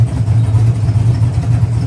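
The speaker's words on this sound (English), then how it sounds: "I'm going to start to rev it up a little bit" A Pontiac GTO engine runs steadily at a low, rumbling idle close by, a thick even drone with only slight rises in pitch and no talking.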